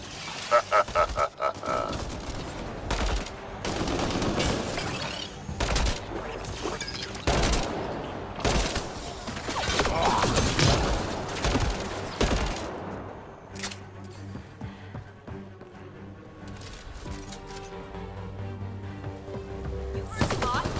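Dense exchanges of gunfire in the sci-fi video game Mass Effect Andromeda, rapid shots and impacts mixed with voices and effects before thinning into quieter ambience and music.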